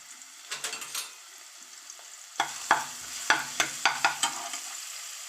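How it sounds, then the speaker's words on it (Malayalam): Coconut oil sizzles softly in a pan with garlic while a utensil stirs and scrapes in a series of short, close clinks. "ഒരു പാത്രം അടുപ്പത്ത് വെച്ച് നമുക്ക് വെളിച്ചെണ്ണ ഒഴിച്ച് വെളുത്തുള്ളി,"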